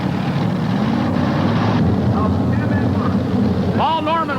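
A 6,000-horsepower modified pulling tractor from Charlotte, North Carolina roars loudly and steadily with a deep rumbling drone, partly buried under an announcer talking, with a rising whine near the end.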